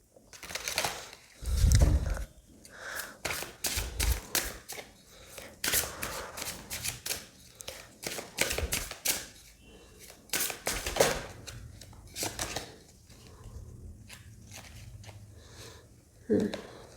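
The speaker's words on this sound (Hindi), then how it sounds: "सो हम शफल कर लेते हैं" Tarot cards shuffled by hand in quick, crisp bursts of riffling and slapping, close and fairly loud, with pauses between flurries and a voice talking at times.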